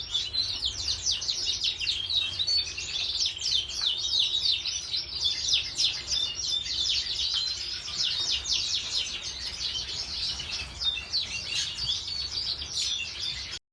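Dense, continuous chirping and twittering from many small birds inside an aviary bird room with nesting birds, a busy high chorus filling the whole stretch with a low background rumble and no voices.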